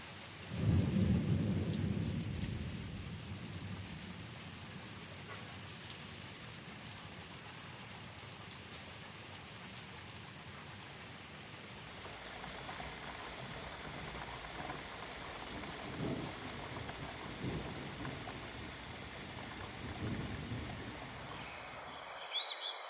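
Steady spring rain shower falls across a wetland, with a loud thunder rumble at the start and further low rumbles later, the rain's hiss continuing evenly throughout with no voices.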